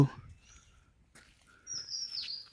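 In a quiet monsoon forest at Lepchajagat, a few short bird chirps come from nearby, followed by a louder, sustained bird call near the end, against otherwise still, empty surroundings.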